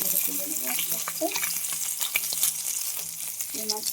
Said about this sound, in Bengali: মাছগুলো আমার ভাজা হয়ে গেছে, মাছগুলোকে তুলে নেবো আস্তে আস্তে।